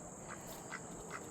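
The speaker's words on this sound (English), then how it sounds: "You can see the ducks tearing into the leaves on the vine." Ducks feeding on sweet potato vine leaves give a few soft, rhythmic quacks about every half second, faint and somewhat distant over a steady background hiss.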